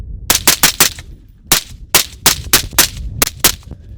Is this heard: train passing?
no